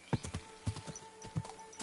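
Rapid hoofbeats of a ridden horse in Kingdom Come Deliverance 2, a steady clip-clop of several close, distinct strikes with no talking over them.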